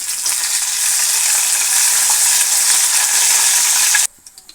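Curry leaves and green chillies fry in hot oil with a loud, steady crackling sizzle for about four seconds, then cut off abruptly, leaving a few faint pops.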